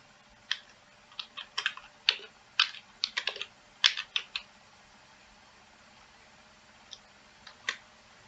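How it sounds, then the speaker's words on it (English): Keys tapped on a computer keyboard to enter a business expense name, short irregular bursts of clicks with pauses between, close and quiet over a faint steady hum. "Type in your expense name."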